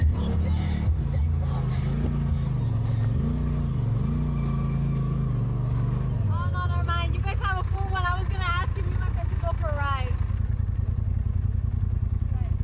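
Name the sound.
Polaris RZR Pro XP 4 side-by-side driving through desert dunes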